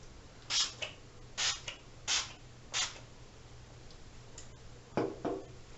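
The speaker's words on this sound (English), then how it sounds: "freaking spray is super duper aggressive" Short, sharp hissing bursts from a makeup spray bottle, four quick sprays in a row, then a pause and two more, close up against a quiet background.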